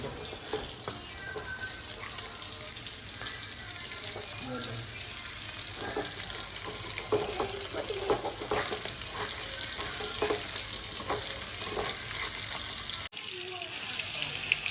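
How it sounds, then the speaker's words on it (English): Fish frying in a pan during home cooking of Malayali-style fish curry, a continuous loud sizzle with crackling spatters and occasional utensil clinks, steady throughout with a brief dip near the end. "Fish fry going on. Chala fish fry."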